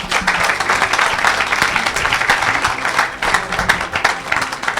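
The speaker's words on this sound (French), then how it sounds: "Acclamez Jésus-Christ." A church congregation applauding during a charismatic service, dense continuous clapping from a crowd in a large room, loud and sustained with some faint voices mixed in.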